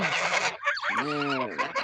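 Grey Ukrainian geese honking and calling loudly at close range, a dense overlapping flock chorus with one drawn-out nasal call standing out, brief throat-like cackles mixed in.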